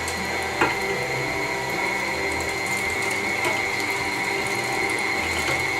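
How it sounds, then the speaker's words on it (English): Electric meat grinder churning through 3 pounds of pork for sausage, a steady close mechanical whir with ratcheting, gear-like clatter running continuously and evenly throughout, with a brief knock near the start. "So I'm going to fire up the grinder."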